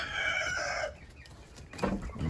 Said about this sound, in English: I'm gonna save all of these hens.